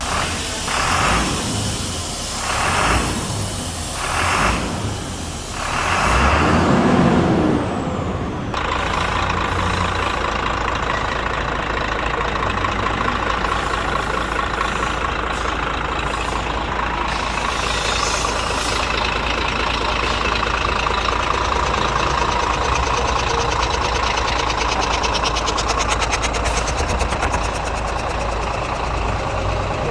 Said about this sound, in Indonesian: Itu tadi suara engine dari Mitsubishi Factor X FM65 FSL High Gear menggunakan engine 6M60